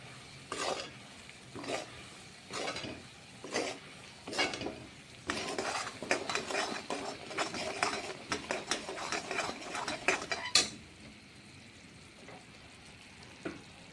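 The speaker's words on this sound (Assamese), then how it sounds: "পিচি লোৱা মছলাখিনি দি এতিয়া আমি ইয়াতে বগৰীখিনি ঢালি দিম।" Jujube pieces for pickle are poured into a pan of ground spices, producing a run of rhythmic scraping stirs, then a dense clatter and rattle of pieces tumbling in, fading to a quiet sizzle.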